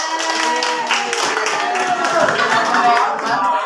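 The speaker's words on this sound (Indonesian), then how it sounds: "Terima kasih tepuk tangan untuk kelompok 3" Children in a classroom clap for group 3 after their presentation, a lively patter of hands with voices and chatter mixed through it, fairly close and moderately loud.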